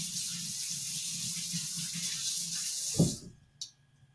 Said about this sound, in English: Now you'll notice I'm going to wash my hands.